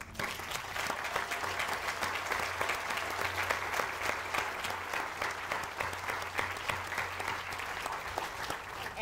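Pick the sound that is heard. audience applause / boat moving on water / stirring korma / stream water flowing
audience applause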